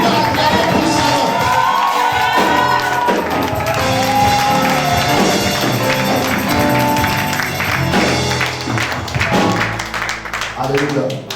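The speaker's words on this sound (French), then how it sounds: "Est-ce que tu peux acclamer puissamment?" A church congregation at a special French-language worship service cheers, shouts and claps loudly throughout, with voices and music mixed into the sustained crowd noise.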